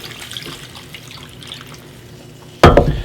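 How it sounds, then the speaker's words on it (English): A quiet, faint background hum, then near the end a sudden loud splashing pour of wine hitting a pot of mussels, sustained for the last half second. "we pour the mussels right into here, and we're going to add some of this wine"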